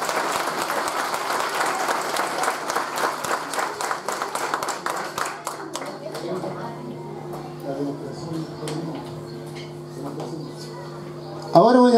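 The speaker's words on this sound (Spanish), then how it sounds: "un aplauso más grande" Audience clapping at an orchestra presentation, a brisk burst of applause that tapers off after about six seconds, giving way to a sustained instrumental tone and quieter room sounds, with a louder note at the very end.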